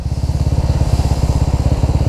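A Honda EX155 motorcycle idles close by, a loud, steady low thumping putter with an even rapid pulse and no voices.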